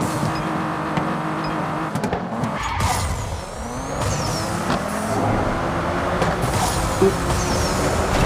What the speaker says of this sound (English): Drifting through.